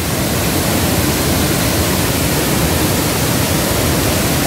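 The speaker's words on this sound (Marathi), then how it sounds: "हा जो समोर हा पडतोय हा मेन धबधबा आहे" Main waterfall near Malgund village, swollen by heavy rain, roars as a steady, loud, broadband rush of falling water, close and unbroken with no voices.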